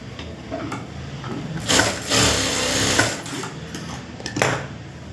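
A sewing machine stitches blouse lining fabric with gold-coloured cloth and piping pieces, running in several short bursts of rapid mechanical whirring with pauses between, close and fairly loud, with no talking.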